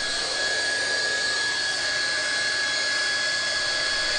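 A hot air plastic welding gun used for welding internal and external miters in safety flooring gives a steady, loud blowing hiss that runs unbroken throughout, with a faint constant whine over it and no talking.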